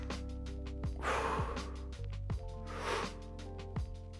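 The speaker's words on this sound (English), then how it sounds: "that is how you properly breathe and brace with a belt" A person doing lateral breathing and bracing into a weightlifting belt, with two strong sharp inhales through the nose, each followed by held tension, close to the mic over a faint musical background.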